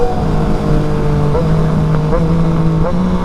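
A Triumph Street Triple RS motorcycle engine with an SC Project exhaust drones loudly and steadily while its pitch jumps upward in quick auto-blipper blips at each gear change, three or four shifts in a row.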